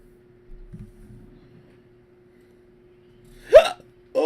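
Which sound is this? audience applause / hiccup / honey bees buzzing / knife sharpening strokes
hiccup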